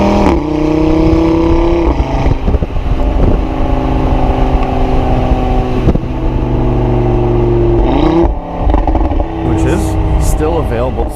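Audi RS3 2.5-liter five-cylinder engine revving loudly and close, with steady harmonic engine tones that rise and fall through the revs, a brief dip around eight seconds, and talk running underneath.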